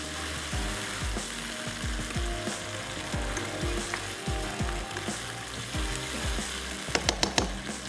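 Capsicum sizzles in hot oil over high heat for masala pasta, a steady crackling fry with repeated scraping clatters of a spoon against the pan, a few sharp clicks near the end.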